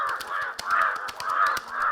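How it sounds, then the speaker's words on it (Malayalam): Two crows fighting, caw after caw in quick succession, harsh and fairly close, with overlapping calls and brief scuffling clicks between them. "2 കാക്കകൾ വഴക്കുണ്ടാക്കുന്നത് കാബീൽ ശ്രദ്ധിച്ചു"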